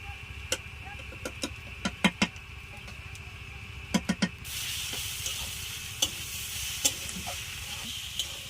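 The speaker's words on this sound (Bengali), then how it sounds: "আমি মশলাটা দিয়ে আরেকবার ভালো করে কষিয়ে নিচ্ছি" A soft, constant sizzle of spiced vegetable filling stir-frying with peanuts and roasted spices, with scattered clicks and scrapes of a spatula stirring in the pan, faint and close.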